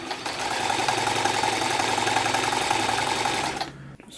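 A Janome Combi sewing machine stitches a buttonhole on scrap fabric, a loud, fast, steady mechanical whir that runs for over three seconds before stopping abruptly.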